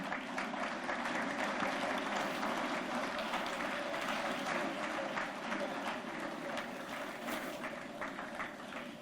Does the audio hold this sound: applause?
yes